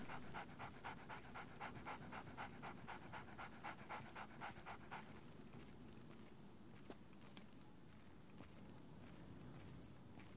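A dog pants steadily in the Splinter Cell video game, a fast rhythmic breathing with faint footsteps that fades out midway, leaving quiet game ambience.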